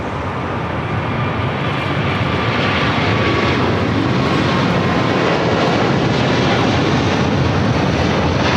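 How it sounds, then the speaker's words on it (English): Emirates flight 216 bound for Dubai rolls down runway 25 Left at LAX, its engines a loud, dense, continuous roar filling the whole span at close range with no other sounds. "The 216 heading back to Dubai, now rolling down."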